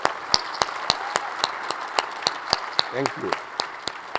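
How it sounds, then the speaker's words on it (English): Conference audience at a computer science education event applauds, a sparse, steady run of individual hand claps echoing through a hall for several seconds, with a brief voice speaking over it partway. "So let's clap for the CS Education Research paper."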